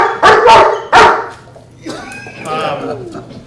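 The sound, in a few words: police K9 dog barking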